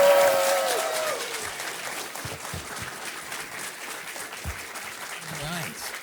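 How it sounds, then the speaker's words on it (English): Crowd at a Portland Retro Gaming Expo 2025 panel applauds the voice actors, a broad wash of clapping that starts under a speaking voice and tapers gradually over several seconds. "Give them another round of applause,"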